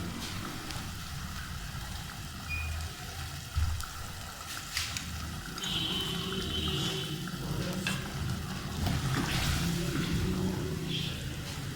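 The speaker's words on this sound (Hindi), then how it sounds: "मैं इसमें 1 प्याली पानी भी शामिल कर रही हूँ।" A cup of water is poured into a simmering mutton korma in a pan. A trickling splash falls into the pan over steady sizzling and stirring sounds, close up, with no talking.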